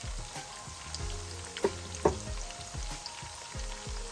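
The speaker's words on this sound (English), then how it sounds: "I would like the onions to fry nicely. I want it to caramelize a little bit" Onions frying and caramelizing in a pan for chicken stew, a close, steady sizzle with occasional pops and light stirring.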